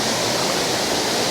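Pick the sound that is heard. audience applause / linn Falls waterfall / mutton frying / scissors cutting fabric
linn Falls waterfall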